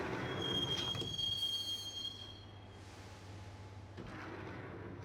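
A subway train in the video game Max Payne rumbles along toward Roscoe Street Station with squealing wheels and a steady low drone, then quiets briefly before the rolling noise picks up again.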